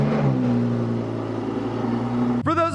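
A 2020 Lamborghini Huracan Evo Spyder tuned by VF Engineering: a steady mechanical hum gives way to a sudden, loud engine start with a rising, wavering tone at the very end.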